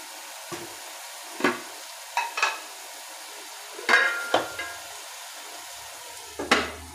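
Minced meat keema fries in a pan as a spoon stirs it, giving a soft background sizzle broken by a handful of sharp scraping and clinking strokes against the metal.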